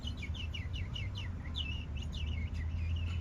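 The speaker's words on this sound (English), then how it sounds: "and all I hear is some birds" Birds chirp in a rapid run of bright, descending whistled notes over a low steady rumble of background noise in the Los Angeles area, and there is no talking.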